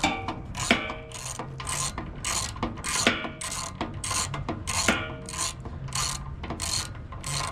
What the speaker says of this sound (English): I'm gonna have to take this cover off and just do 7/16 bolts on the back.